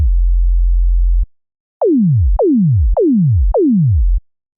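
A synthesized 808-style kick drum built in Unreal Engine first plays a low, steady sine tone, then four identical hits, each a pitch envelope starting near 1000 Hz and sweeping quickly down into a deep booming tail, evenly spaced and clean, with no voices.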